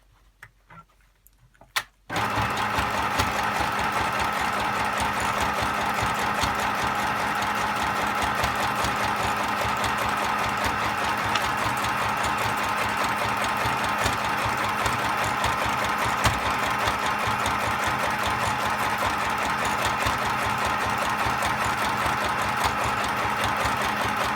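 Sewing machine stitching through thick junk journal paper, a steady rapid mechanical whirr that starts abruptly after a brief quiet pause and then runs continuously, close and loud.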